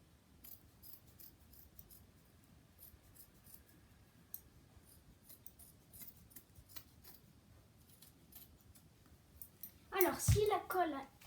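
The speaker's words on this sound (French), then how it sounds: "Ah non, c'est pas les ciseaux pour les tissus, mais bon, ça marche aussi." Scissors snip through recycled craft materials in a short burst near the end, after a long quiet stretch of faint background ticking and soft sounds.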